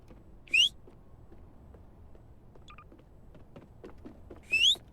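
Whistle blown in the Backrooms video game, two short sharp rising shrill blasts several seconds apart over a low, busy game background, with a faint brief chirp between them.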